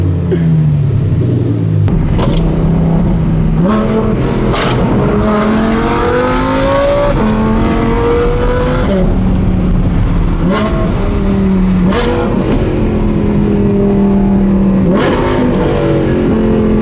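An Audi R8 engine revs loudly and repeatedly, its pitch climbing and falling in waves, with sharp exhaust pops cutting through the steady roar.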